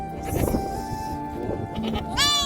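Goats, sheep, lambs and kids moving toward pasture, with scuffling and faint movement noise before a single clear, close bleat rings out at the very end.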